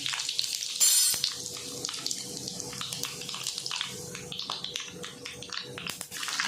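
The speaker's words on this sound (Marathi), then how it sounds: "आता आपण राई टाकून घेऊया जिरं टाकलं आहे" Mustard seeds and cumin crackle and sizzle in hot oil over a lowered flame, with dense close popping and spitting that runs continuously, a few sharper snaps standing out.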